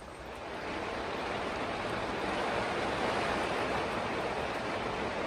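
Dense, steady hiss of heavy rain pouring down on a clay cabin roof, swelling slightly in the first second and then holding at a constant roar.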